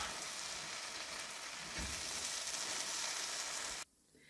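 Bread pieces sizzle in a pan of butter masala while being stirred, giving a steady frying hiss with scraping stir noises, then a sudden drop to quiet at the end.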